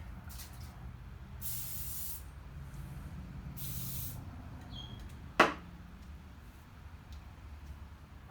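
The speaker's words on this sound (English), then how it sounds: "you can use olive oil spray if it's hard to get on" Olive oil spray hisses in two short bursts onto a 1/2-inch PEX adapter fitting during a ProPress ball valve install, followed by a single sharp click, all close and alone.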